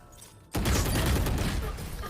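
Sudden loud burst of rapid gunfire from a player holding the trigger while running in a tactical shooter, cutting in after a quiet half-second and sustaining to the end.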